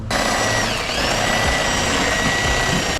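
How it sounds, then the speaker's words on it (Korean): A power drill bores a hole to reach a frozen drain pipe, with a loud, steady, unbroken whirring grind held close for the whole stretch. "일단은 구멍을 내고 네, 천공을 하고"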